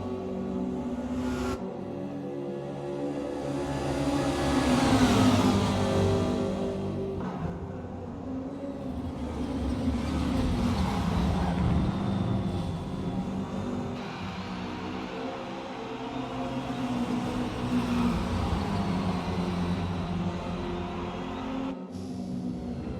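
Touring cars race in Forza Motorsport, with steady engine roar and revving as several cars run close together through a corner, the loudness swelling and easing without pause.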